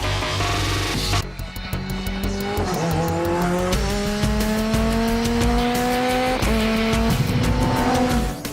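A BAC Mono single-seat sports car driven hard at speed, its loud engine note rising and falling through gear changes with sustained tire noise, close and continuous with no talk.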